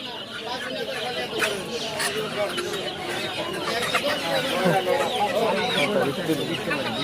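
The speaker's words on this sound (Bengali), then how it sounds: "ওগুলি মোরগ" Chickens and roosters cluck and call repeatedly at a busy village market, overlapping with people talking nearby.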